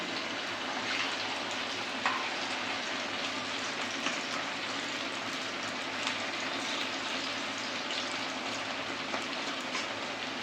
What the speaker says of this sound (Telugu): దీంట్లో కరివేపాకు వేస్తున్నాను కదా